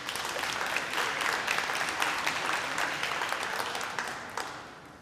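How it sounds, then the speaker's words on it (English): An audience at an award ceremony applauds, a dense wash of steady clapping from many hands that holds evenly and then tapers off toward the end. "So give yourself a round of applause."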